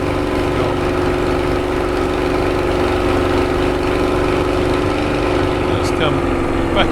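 A Spitfire's piston engine running in Microsoft Flight Simulator, a steady, loud droning hum that holds an even pitch throughout, heard alone.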